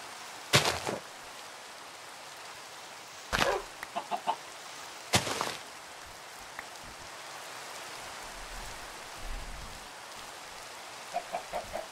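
Minecraft chicken clucking in short, sharp bursts spaced several seconds apart, over a constant hiss of in-game rain.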